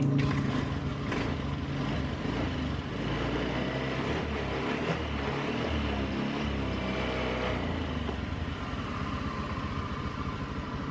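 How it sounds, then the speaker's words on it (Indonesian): A Honda Beat scooter engine idles steadily and loudly, a continuous rumbling putter with no talking, close to the microphone throughout. "Jadi motor ini sudah hidup."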